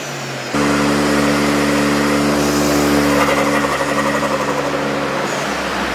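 A Toyota GR Corolla engine with an intake and E40 tune roars loudly on a dyno, starting abruptly and holding a strong, steady pull with its tone climbing as it revs.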